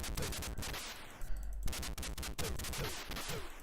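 Harsh, crude gunfire effects from the Atari ST shooter Operation Thunderbolt crackle in loud, continuous bursts, broken by a brief low thud and lull before the rapid shots resume.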